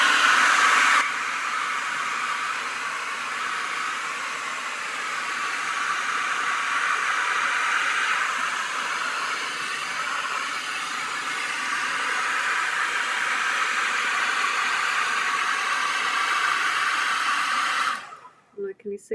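A hair dryer runs steadily at close range, drying watercolour paint on paper with a loud continuous whooshing blow for about eighteen seconds, then cuts off abruptly near the end.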